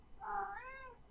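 A single drawn-out cat meow rises and falls over about a second, faint and alone in a quiet room.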